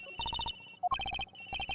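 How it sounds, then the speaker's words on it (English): A cell phone rings inside the Ace Attorney Investigations video game with a bright electronic melody, repeating in short chiming bursts separated by brief pauses, clear and fairly close. "Agent Hicks' phone! It's ringing from somewhere, sir."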